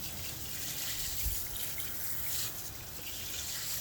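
Water runs off a wheel set on a detailing stand on a sloped driveway, a soft steady splashing and trickling with faint drips, quiet and continuous without voices.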